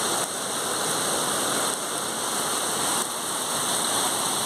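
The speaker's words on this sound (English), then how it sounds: "Fresh rain, fresh rain." Heavy rain pours steadily off a roof in humid Penang, a dense, constant roar of falling water with no break and no voices.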